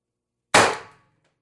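A single sharp crack from a TR50 CO2 air rifle firing off 90 g CO2, snapping in loud and close, then decaying quickly into silence, with no talk.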